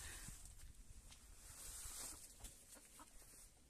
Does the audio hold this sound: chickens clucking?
yes